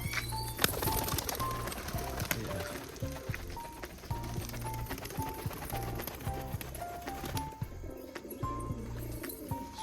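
Tumbler pigeons in a loft give repeated low, soft coos in a rhythmic pattern, mixed with light rustling and other bird sounds nearby.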